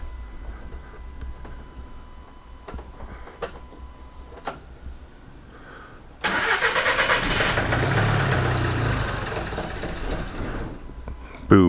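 A Volkswagen Caddy van engine with an engine problem cranks and tries to start, a sustained mechanical roar after a few quiet ticks and clicks.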